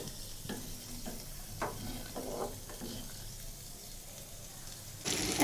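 Bitter gourd frying in oil in a pan, a steady close sizzle with a few stirring scrapes and a brighter hiss burst near the end; no talking.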